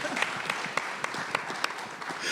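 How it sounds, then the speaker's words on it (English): Audience applause at a film festival Q&A, a fairly steady patter of clapping with a few sharper individual claps standing out, moderately close and without talk. "You can clap for him. That's fine."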